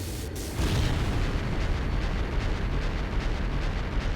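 An airship explodes in Trails of Cold Steel: a sharp crack, then a heavy sustained roaring blast with low rumble that stays loud and dense for several seconds, with no voices.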